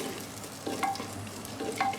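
Onions fry in hot ghee in a pan, a close crackling sizzle with a couple of spatula scrapes and stirs, no one speaking.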